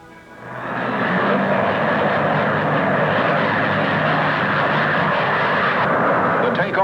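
An American rocket carrying a camera ignites and lifts off: a roar swells within the first second, then holds as a loud, dense, continuous rumble to the end.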